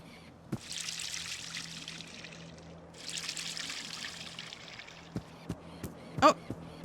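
Water pours steadily onto a garden plant in two long trickling streams, followed by a few scattered knocks and taps, heard up close in a quiet setting.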